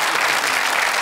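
Brief, dense burst of audience applause at a comedy show, loud and steady for about a second with no voices.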